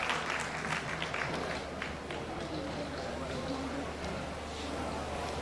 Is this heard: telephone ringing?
no